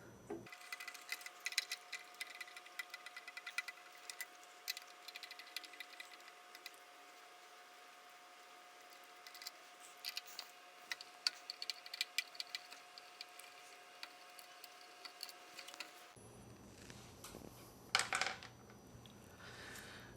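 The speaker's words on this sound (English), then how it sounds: "Now we can go ahead and loosen the screws that are holding the circuit board in place." Screws holding a garage door opener's circuit board are loosened by hand, giving faint, sparse metallic ticks and clicks over a quiet background, with a brief louder rattle near the end.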